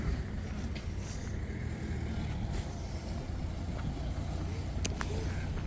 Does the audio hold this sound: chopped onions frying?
no